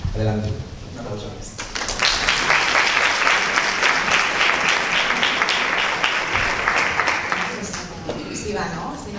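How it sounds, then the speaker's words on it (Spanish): An audience at an education conference claps loudly and steadily for several seconds, a dense wash of applause that swells quickly and then tapers off, with a voice briefly heard near the start. "Un aplauso."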